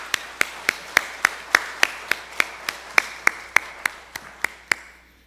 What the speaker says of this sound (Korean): 감사의 박수를 한번 했으면 좋겠습니다